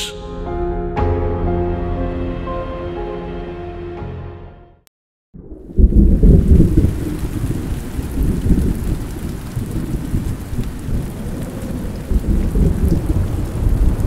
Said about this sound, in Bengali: আজও সকাল থেকেই বৃষ্টির ছোঁয়ায় ভিজছে গোটা পৃথিবী।